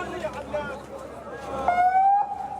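An ambulance siren wails at a hospital in the far north of Gaza amid chaotic scenes, its rising and falling tone mixed with overlapping voices and crowd noise, then a single sustained siren tone sounds loudly near the end.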